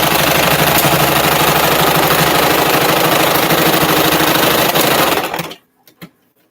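A sewing machine stitches a fabric mask in a fast, loud, continuous mechanical whirr that stops abruptly near the end, followed by a couple of faint clicks in the quiet.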